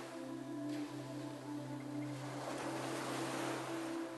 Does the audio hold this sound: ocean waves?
yes